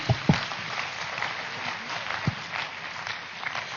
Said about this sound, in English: Everyone, one more big round of applause for yourself.